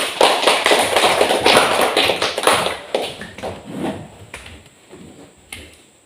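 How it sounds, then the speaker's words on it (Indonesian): Classmates clapping for a student's class presentation, a burst of sharp claps that is loud and busy at first, then thins out and tapers off over several seconds. "Tepuk tangan Iis."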